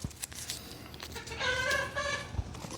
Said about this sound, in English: sorry about the chickens in the background. They must be beating the tar out of each other or something.